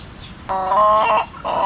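A chicken clucks nearby in a couple of short, loud bursts against faint background noise.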